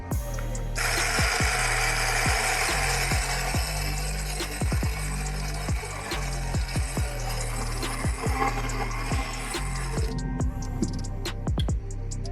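A Philips 3200 espresso machine runs with its casing open during a test, a loud continuous mechanical whir with a rapid rhythmic pump-like ticking throughout and a shift in tone near the end.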